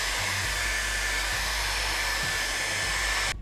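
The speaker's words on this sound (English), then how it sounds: "I'm going to take a hairdryer and just kind of dry it a little bit before I try and pick it up" A handheld hairdryer blows on coffee-stained paper, a loud, steady whooshing drone with a low motor hum, running close and continuous until it switches off abruptly at the end.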